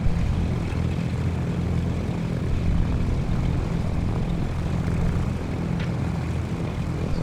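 A Cessna C414 twin-engine propeller plane in Microsoft Flight Simulator drones steadily throughout, a loud, even engine hum with no talk over it.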